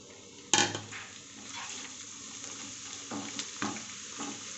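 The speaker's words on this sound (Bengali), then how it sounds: "চিড়ে ভাজতে একদমই সময় লাগে না" Flattened rice (chira) is frying in a pan for homemade chanachur, giving a soft sizzle and faint crackle, with a sharp clank at the start and a few scraping stirs later.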